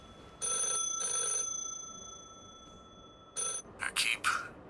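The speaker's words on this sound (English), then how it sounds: "is the phone ringing again?" A telephone rings in The Last Caretaker video game, two long electronic ring bursts followed after a pause by another burst, then a brief warbling tone, clear and alone.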